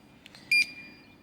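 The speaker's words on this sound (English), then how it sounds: "So you could see it's only 1 beep" A Nemtek electric fence energizer keypad gives a single short, clear electronic beep, brief and close, after a couple of faint key-press taps in a quiet room.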